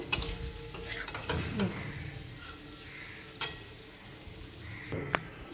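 A spoon scrapes and stirs aloo posto, potatoes cooked with poppy seed paste, in a pan on the stove, with soft faint sizzling, a few scraping strokes and sharp clinks of utensil against metal.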